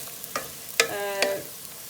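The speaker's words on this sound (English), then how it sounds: "Then let it fry till the brown. Keep stirring in the middle." Masala for dal makhani frying in a pan while being stirred, with a few scraping strokes and a soft sizzle, close and clear.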